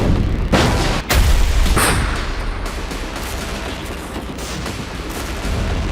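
Heavy booms and blasts of battlefield explosions in the Russia-Ukraine war, with a sharp loud impact early on and rumbling, crackling gunfire continuing throughout at a distance.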